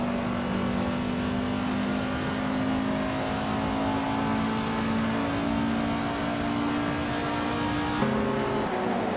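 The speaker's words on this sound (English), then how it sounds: "We've got some exciting AI car races going on right now, so buckle up and enjoy the ride." Engines of AI-driven Group 3 and Group 4 race cars drone steadily in a racing video game, holding a loud sustained pitch before an abrupt gear shift near the end, with no voices.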